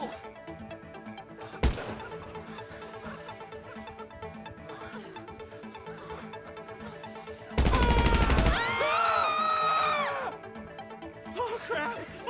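Gunfire in GTA V: a single sharp shot, then a short, dense burst of rapid fire, over game ambience with frantic shouting voices.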